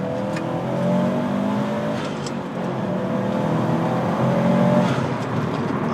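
Subaru WRX STI pulling hard through second gear on a straightaway, a steady loud engine drone that holds through the whole run, with a rising harmonic whine and no talking over it.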